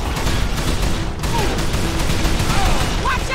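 Gunfire from a shootout in the video game Call of Juarez: The Cartel, a loud, dense burst of shots rattling continuously throughout, with shouting voices mixed into the chaos.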